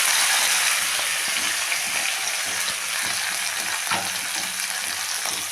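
Drumstick flowers fry in oil tempered with nigella seeds and a dry red chilli, a continuous close sizzle broken by occasional spoon scrapes and clinks, with no talking.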